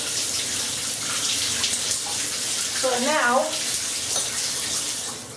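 Shower water runs steadily during hair washing, a loud, continuous broadband spray with a short squeaky burst midway and a brief spoken phrase over it.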